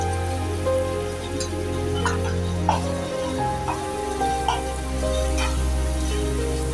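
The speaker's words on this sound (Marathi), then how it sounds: "कांदा पण शिजलेला आहे परतवूया आपण आणि त्यात घालतोय आपण आलं लसूण" Onion sautéing in a pan as ginger and garlic go in, a soft continuous sizzle with light stirring clicks and scrapes, steady and fairly quiet with no voices.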